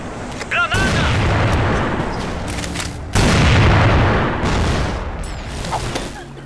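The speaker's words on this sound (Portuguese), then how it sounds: "Granada!" Explosions and gunfire in the online shooter CrossFire, with repeated booms and bursts of shots in a busy team firefight, plus a sharp louder blast about halfway through, and a player's voice calling out over the noise.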